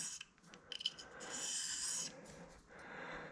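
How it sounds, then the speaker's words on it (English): Carbide tool rubbed by hand across a worn diamond sharpening stone, a soft raspy scraping in steady strokes, close and quiet, with no one talking. "So I'm just polishing that carbide down."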